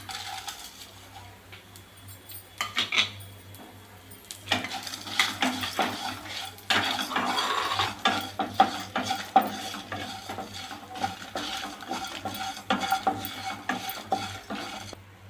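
Ginger, garlic, pepper, cumin and fennel are stirred and sautéed in a pan for a Chettinad crab gravy, with continuous close sizzling and frying under repeated scraping and clinking of a utensil against the pan, and no talk.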